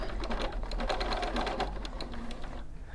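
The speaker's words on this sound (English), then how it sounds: "I'm going to change onto a straight stitch, and I'm just going to go round the edges just to give the edges a bit of a neaten up" Sewing machine running a straight stitch around the edges of embroidery on a bathrobe, a fast, even mechanical clatter heard close up that continues steadily throughout.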